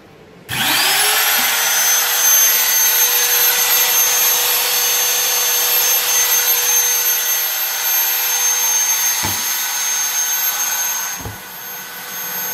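A CNC router starts up inside an enclosure and runs with a steady, loud whine and hum, a couple of brief clicks partway through.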